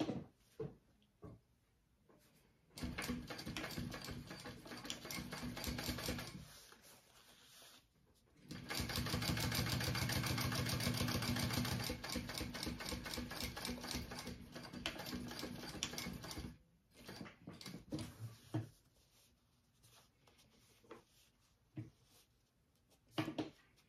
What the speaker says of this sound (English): now I'm going to sew this on